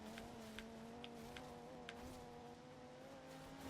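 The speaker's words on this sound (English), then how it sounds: "I hear engines to my right, which means someone's right next to me" Rival cars racing close alongside in Forza Horizon 2, a steady droning engine hum with a sustained tone, plus a few faint sharp ticks on top, no talk.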